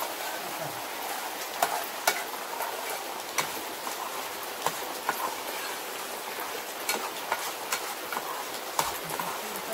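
Masala for Konkani-style bangda fish curry being sautéed in oil over a wood-fired chulha, a steady close frying hiss with regular light spoon scrapes and taps against the pot throughout.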